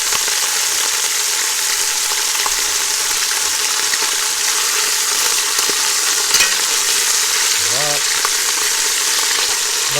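Turkey parts sear in a hot pan, a loud, dense, continuous sizzle and crackle that stays steady from start to finish, close up with no talk.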